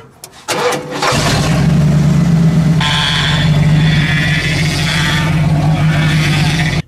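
A car engine, just topped up with power steering fluid, cranks briefly and fires, settling into a loud, steady idle with a faint whine over the rumble.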